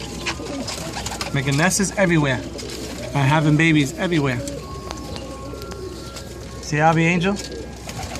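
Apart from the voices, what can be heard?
pigeons or doves cooing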